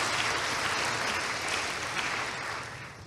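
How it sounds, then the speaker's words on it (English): A conference audience in a town hall applauds together, a dense even wash of clapping that holds steady and then gently thins toward the end. "let's clap and congratulate ourselves that we are part of this conference"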